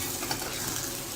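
Egg stew in a pot being stirred gently with a utensil, giving a steady soft scraping and bubbling sizzle that runs close and even throughout, with no talking.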